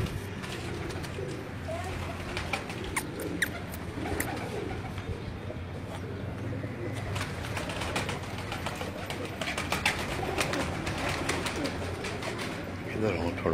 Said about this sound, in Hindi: एक काबली कबूतर, हाई फ्लाइंग पिजन, ऊंची उड़ान वाले कबूतर